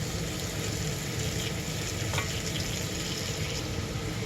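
Thin strips of beef frying and being stirred in a crowded pan, a steady close sizzle with faint stirring scrapes running throughout, no voices.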